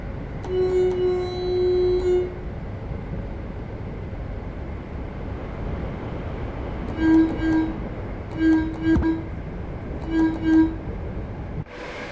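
Class 165 diesel multiple unit in Train Sim World 4 with modded sounds, a steady engine and rail rumble underneath, short horn-like tonal blasts early on, then a run of clicking beats as the wheels pass over rail joints.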